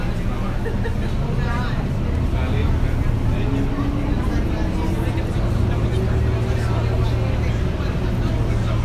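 A tour boat engine drones steadily on the Seine in Paris, with a low hum and broad rumbling wash, while voices murmur faintly in the background.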